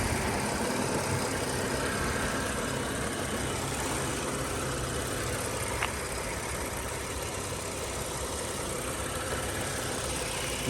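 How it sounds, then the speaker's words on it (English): A 2015 BMW 640xi Gran Coupe engine idles steadily nearby with a constant low rumble and an even mechanical hum. "listen to this engine for a moment."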